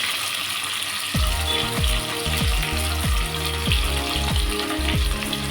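Onions and curry leaves fry in hot oil for a fenugreek-leaf rice dish, giving a steady close sizzle and hiss throughout, with repeated short scraping stirs of a spoon against the pan punctuating it at a regular pace.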